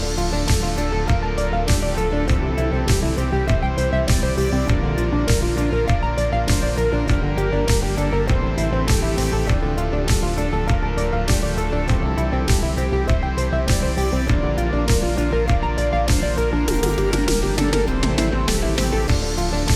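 A dense synthwave track built entirely on a Melbourne Instruments Nina synthesizer, with driving bass, bright layered synth lines and steady percussive hits, loud and continuous with no talking.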